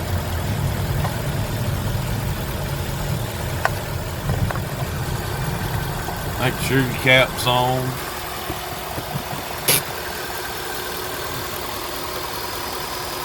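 A 2013 Ford F-150 with the 5.0 engine idles steadily with a low rumble for the first half, then cuts out, leaving quieter background; a person speaks briefly over the engine.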